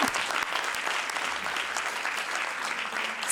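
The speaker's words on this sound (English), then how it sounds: "let's give a round of applause to all the speakers" A conference audience claps in a dense, sustained burst of applause, steady and fairly loud throughout with no voices over it.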